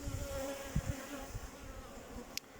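Honeybees hum steadily around an opened beehive during a hive inspection, a low, close drone with a few soft knocks of handling and one brief sharp tick near the end.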